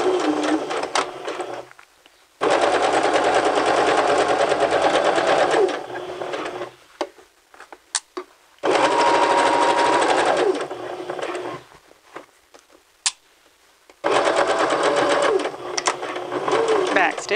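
A sewing machine runs in three loud, close bursts of fast, even stitching on a 3/8 inch pocket seam, separated by short quiet gaps where it stops and starts again for back stitching.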